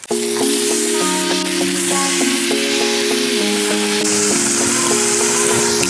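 Pork chops sear in a searing-hot pan, a steady loud sizzle and crackle running unbroken from start to finish with no voices over it.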